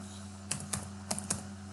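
A few separate keystrokes on a computer keyboard while writing test-automation code, close and fairly quiet over a steady low hum.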